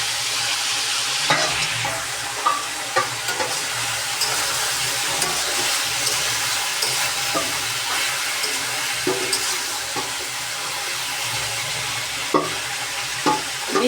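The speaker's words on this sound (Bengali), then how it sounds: "সিম ভাজি হচ্ছে।" Flat beans stir-fried in a pan for a bean bhaji, giving a steady, close hiss of sizzling oil with scattered scrapes and clacks of a spatula stirring throughout, and no voices.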